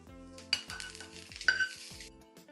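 Cloves, cinnamon and bay leaf sautéing in a pan for egg curry, a faint steady sizzle with a couple of sharp utensil clinks against the pan.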